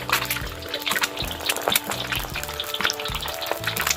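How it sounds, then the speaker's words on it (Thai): Eggs fry in hot oil for a Thai basil shrimp dish, a loud close sizzle and crackle with bursts of spattering and scraping, and no voice over it. "เราก็จะมาทอดไข่กันก่อนนะครับ"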